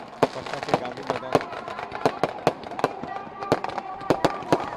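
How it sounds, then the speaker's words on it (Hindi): Fireworks crackle and bang in quick irregular bursts at the Dussehra celebration in Patna's Gandhi Maidan as the effigies burn, sharp close pops over a crowd murmur. "ये कुंभकर्ण का भी जो पुतला है वो धू धू कर जल उठा और आतिशबाजी भी जमकर हो रही है।"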